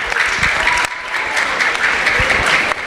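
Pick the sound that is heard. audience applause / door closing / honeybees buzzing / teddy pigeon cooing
audience applause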